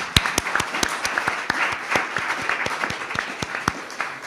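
An audience claps in applause at a talk about marriage equality, sharp individual claps spread across a moderate crowd, steady and sustained throughout.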